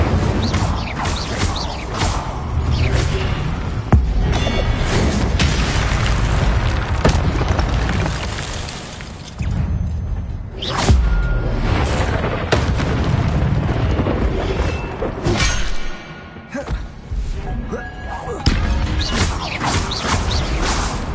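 Incendio fire spells blast repeatedly in the video game Hogwarts Legacy on PS4, loud booming bursts and crackling impacts layered densely over a busy battle soundscape with almost no pauses.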